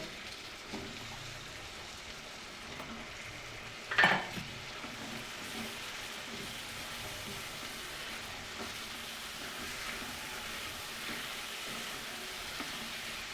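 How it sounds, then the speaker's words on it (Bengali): Washed potatoes sauté in spice masala in a pot, a faint continuous sizzle with soft stirring scrapes and one brief clatter near the start. "আলুটা দু চার মিনিট কষবো"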